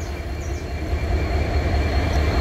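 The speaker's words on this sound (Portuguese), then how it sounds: "passando outro trem da Bracel" An empty Bracell/MRS freight train led by an SD70 locomotive rolls past heading inland, a loud, steady close rumble of wheels and wagons that builds slightly throughout with no pauses.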